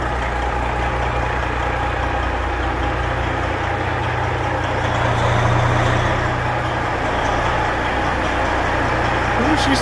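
A Peterbilt 379 truck under rebuild rumbles into a shop with a deep, steady, loud engine drone and a heavy low-end throb, with voices faintly present.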